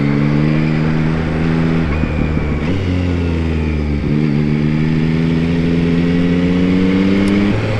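A Yamaha MT-09 SP naked motorcycle on a test ride, its engine droning steadily and loudly close by with small dips in revs before pulling on evenly.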